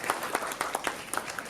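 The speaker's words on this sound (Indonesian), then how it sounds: "tepuk tangan sekali lagi untuk The Smith" A brief burst of audience applause at a property presentation for The Smith, with sharp individual claps standing out from a thin crowd.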